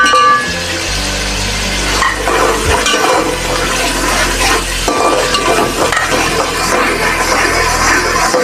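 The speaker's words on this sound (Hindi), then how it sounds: "एक मिनट अच्छी तरह भून लें।" Whole garam masala, pulao masala, salt and dried red chillies frying in a pan for potato and pea pulao: a loud, continuous sizzle with repeated scraping strokes of stirring close by.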